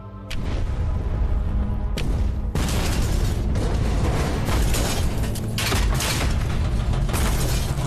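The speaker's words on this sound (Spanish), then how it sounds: "Las explosiones de las cargas de profundidad sacuden el Barb." Series of depth charge explosions rocking the WWII submarine Barb, a heavy booming rumble with sharp bursts and rattling metal, loud and sustained with repeated thuds.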